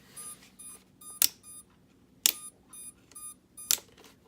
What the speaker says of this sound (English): There's your beeper.